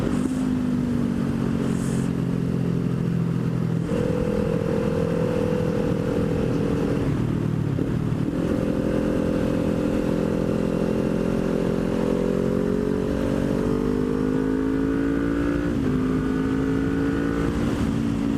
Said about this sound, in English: from 5th gear, one more clutch test. Wide open. Power shift to 6th.